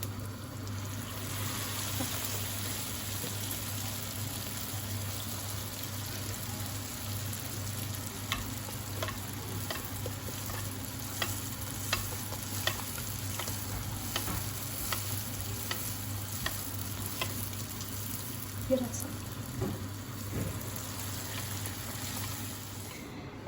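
Pişi dough frying in hot oil gives a steady, loud, continuous sizzle throughout, dotted with small pops and crackles and occasional faint utensil clicks.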